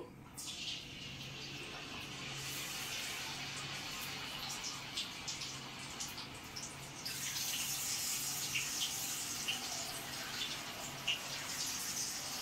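Raw banana slices dropped one by one into hot oil for chips, giving a steady hissing sizzle that swells louder and busier about halfway through, with no talk over it.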